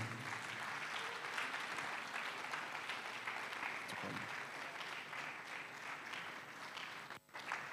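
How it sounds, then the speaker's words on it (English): Steady audience applause at a university campus award announcement, continuous and fairly even, briefly dipping just before the end. "let's clap for Dr. Lydia doing so well at Obuasi campus"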